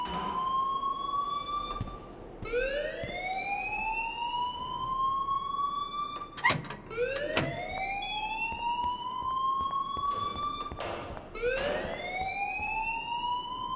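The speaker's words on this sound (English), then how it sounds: "please turn off that alarm since that's your job." A fire alarm blares in the video game Life is Strange Remastered as a loud electronic wail. Each tone sweeps upward and repeats roughly every four seconds, with a few sharp clicks and knocks midway.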